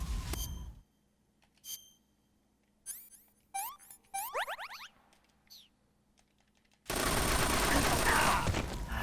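Gunfire in the video game Metal Gear Solid 3: several short, sharp bursts of game shots and effects spread across the first seven seconds, followed by a loud, dense rush of sustained noise to the end. No talking.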